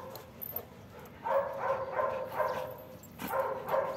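Dog barks in repeated deep, loud bursts during attack training, a steady series of woofs spaced about half a second apart, close and clear.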